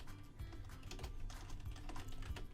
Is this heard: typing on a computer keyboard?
yes